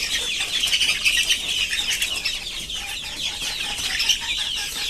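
Chickens, many of them roosters, cluck and chatter steadily in a busy flock, with some wing flapping, close and fairly loud.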